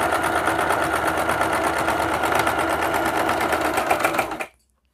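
A sewing machine stitches folded piping fabric in a rapid, even mechanical chatter, running loud and close before stopping abruptly near the end.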